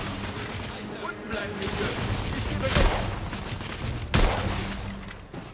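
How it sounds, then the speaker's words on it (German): Rapid gunfire in the shooter game The Order: 1886, a steady loud fusillade with two sharp nearby shots standing out, while someone speaks briefly over the shooting. "Ich werde beschossen."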